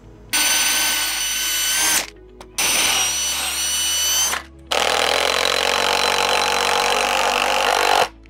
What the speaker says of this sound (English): I'm going to go ahead and put a couple screws in the bottom so I keep my bracket aligned